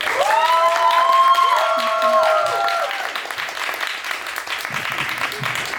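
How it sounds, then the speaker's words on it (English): Audience applause at a winter art showcase poetry reading, a dense wash of clapping from a crowd right after a poem ends, loud at first and easing slightly, with a few voices faintly mixed in. "Keep the round of applause going."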